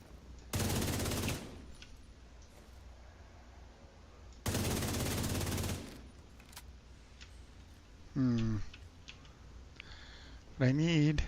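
Enemies shooting guns in The Division 2, arriving as two loud sustained bursts of automatic fire separated by quieter stretches, with speech in the gaps.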